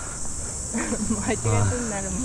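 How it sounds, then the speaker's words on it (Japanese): Cicadas buzz in summer on a slope in Kanazawa, Ishikawa, near Kenrokuen garden. The high drone is steady and constant, and people talk over it. "セミだよこれ。"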